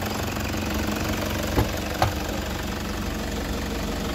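A 2014 Toyota Prado with the 1KD-FTV diesel engine idles steadily with a low, even rumble, broken by two brief knocks or clunks a moment apart, and no voices.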